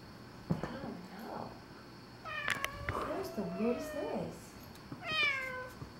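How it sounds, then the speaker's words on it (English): A pet cat meows indoors, several drawn-out, wavering calls in a row that rise and fall in pitch, close and fairly loud, with a person speaking nearby between them. "He keeps looking at the light and meowing."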